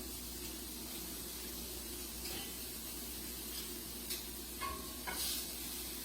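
A steak sandwich sizzles steadily in a pan, a continuous close frying hiss with a few soft scrapes and clicks of utensils near the end.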